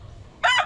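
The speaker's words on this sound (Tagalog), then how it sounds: "So ito yung isa sa mga manok natin dito sa" A gamefowl rooster at a small poultry farm lets out a single loud, close crow in the second half, following a quiet stretch of low background rumble.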